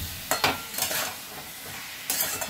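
Mutton liver stir-fried with coriander powder in a pan, with bursts of loud hissing sizzle and spatula scraping that come and go in short strokes, close up and with no speech.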